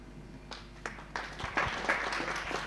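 An audience at a talk session breaks into scattered applause that builds into a few seconds of steady clapping, starting sparse and growing denser toward the end.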